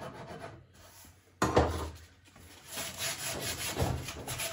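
Coarse 60 grit sandpaper rasps across a hand-carved wooden guitar neck in uneven scratchy strokes, quiet at first and then growing louder and more continuous, with no talking.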